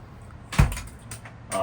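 A refrigerator door latch in a 1972 Dodge Balboa motorhome clicks shut with one sharp thud, followed by a light rattle and a second softer knock in a quiet interior.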